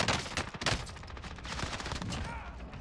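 Gunfire from Call of Duty Warzone comes as rapid, rattling bursts of shots, fairly faint and distant, in a short continuous run.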